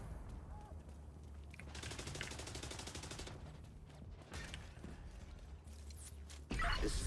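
Rapid bursts of Mark 46 machine gun fire in The Division 2 crackle loudly over a dense game soundscape, with a sustained fusillade in the middle and scattered shots around it.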